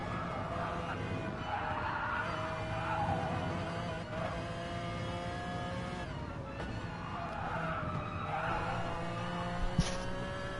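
A Gran Turismo race car spinning out on the Brands Hatch track in a Gr3 race, with steady engine drone and tire noise throughout under low commentary.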